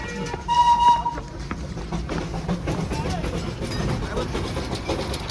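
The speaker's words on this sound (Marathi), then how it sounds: "त्या ट्रेनचा आवाज येतो बघा." A train rumbles and clatters past in Darjeeling, with a short whistle sounding early on, and voices mixed in with the noise.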